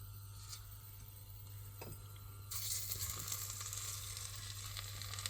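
Butter sizzles quietly in a pan with halved pears, a soft hiss that swells louder partway through and then holds steady, with no talking.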